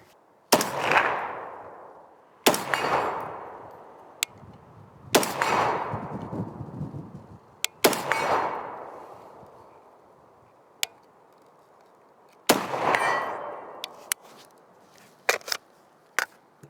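Ruger SFAR rifle firing PMC X-Tac rounds outdoors, five loud gunshots spaced about two to three seconds apart, each trailing a long echoing decay, with faint clicks and ticks between shots and no talking.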